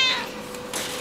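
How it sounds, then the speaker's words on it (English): A cat's loud, drawn-out meow rings out near the start and trails off, followed by a fainter second call toward the end, the sound of a vocal cat calling to another kitty nearby. "I think if Tiger is all alone, he would just be driving everybody crazy with all his yelling"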